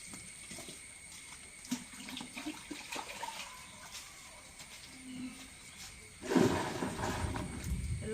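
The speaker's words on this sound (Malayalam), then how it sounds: "ഇനിയും ഈ ബക്കറ്റിലെ വെള്ളം ഒഴിക്കുകയാണ്" Water poured into a bucket with Ariel washing powder for laundry, quiet faint trickling at first, then a louder rushing gush splashing in near the end.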